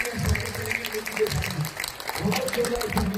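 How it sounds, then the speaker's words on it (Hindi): Audience applause at a gathering, a continuous clapping wash mixed with voices and crowd noise, moderately loud throughout. "एक बार बिल्कुल दिल से और जोरदार तालियां इन लोगों के लिए बजेंगी।"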